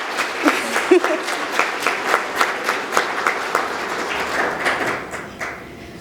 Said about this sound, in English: So give a hand of applause for Miss Chanel Sede